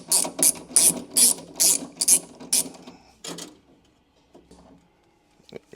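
Ratchet backing out the window motor bolts inside the door of a 1991 Alfa Romeo Spider: a run of loud, close ratcheting bursts in steady rhythm, then a few fainter clicks and quiet handling.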